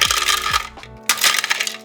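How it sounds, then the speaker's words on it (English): About a cup of ice cubes tumbles into a Hamilton Beach food processor, a loud close clatter of hard pieces striking plastic in two quick bursts, with no talk. "In goes the ice, about a cup."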